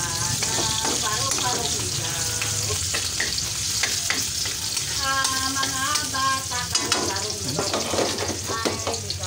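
Garlic and onion sautéing in a pan for ginisang sayote, a loud steady sizzle that runs throughout with stirring clatter and faint tonal background sounds mixed in.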